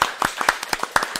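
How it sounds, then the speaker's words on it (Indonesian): An audience claps hands in a sharp, slightly uneven rhythm, each clap distinct and close, a short burst of roughly a dozen claps with no talking. "Tepuk tangan sekali lagi dong."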